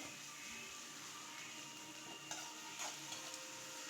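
Chopped big onions sauté in a pan with a faint, steady sizzle, broken by a couple of light scrapes from a stirring spoon; quiet and close, with no voices.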